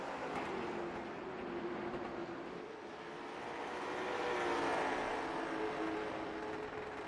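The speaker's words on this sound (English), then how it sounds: "you can hear these cars just bouncing off that rev limiter, bouncing off the chip" Race cars at a short-track late model event sweep past in a steady, droning engine roar that swells and fades with distance, their engines holding a flat, sustained pitch against the limiter; no one speaks.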